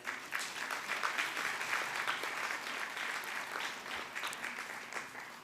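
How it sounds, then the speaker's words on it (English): Audience applause for an honoree at a YWCA of Bombay sesquicentennial celebration evening, steady, full clapping from a sizable crowd sustained throughout at moderate distance. "Please join me in welcoming Ms. Dia Ann Matthew this evening with a big round of applause."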